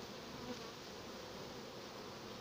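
Honey bees at an opened hive make a steady, dense, low buzzing drone that stays close and even throughout, with no voices.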